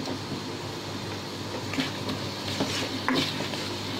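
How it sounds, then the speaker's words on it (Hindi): Onions frying and being stirred in a pan, a dense continuous sizzle with a few scraping stirs and clinks of a utensil against the pan. "और अब ये पैन है, पैन में मैं डालूंगी प्याज"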